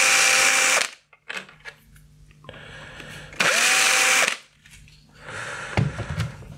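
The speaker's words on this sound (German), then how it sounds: "Und dann nehmen wir einen 2/9er Bohrer und bohren hier oben die oberen Löcher" A small power drill with a 2.9 mm bit bores holes for a model car-system charging station, giving several loud high-pitched whirring bursts that spin up and stop, separated by quiet pauses.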